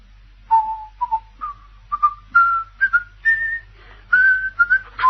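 Someone whistles the Skye Boat Song, a slow, clear melody up close, a series of sustained notes rising gradually in pitch, alone with no talking.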